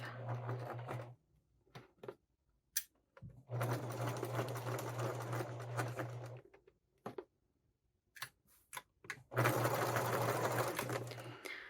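A home sewing machine stitches fabric and bias tape at normal stitch length in steady humming bursts of a few seconds each, separated by short pauses with small clicks and handling noises.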